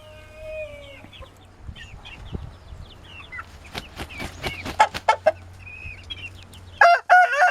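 Indian game roosters and hens, well-kept birds, crow and cluck close by, with several crowing bursts through the middle and a loud crow near the end over a low steady hum.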